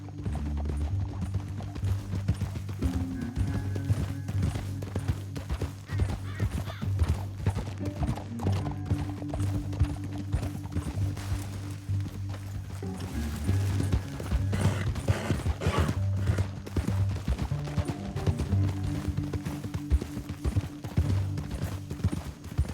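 Steady clip-clop of horse hooves at a walking pace in Red Dead Redemption 2, continuous and fairly close, with occasional creaks of tack and gear.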